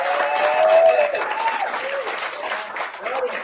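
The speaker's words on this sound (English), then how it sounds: "Let's a round of applause for Dr." An audience at a cancer symposium applauds Dr. Cole, a dense, steady clapping that swells early and then slowly tapers, with some voices mixed into the crowd.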